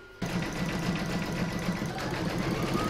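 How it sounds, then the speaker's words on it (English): An embroidery sewing machine starts up and stitches steadily in the hoop, a close, continuous rapid mechanical chatter with a whirring motor, loud and unbroken after a brief quiet start. "Now pop that in my machine and stitch round number 6 to secure it."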